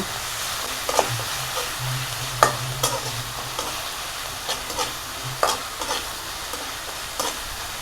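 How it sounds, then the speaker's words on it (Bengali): Garlic paste and crushed green chili frying in a pan give a steady, close sizzle, broken by light scraping and clicking stirring sounds, with no talking. "এখন হালকা একটু ভেজে নিব।"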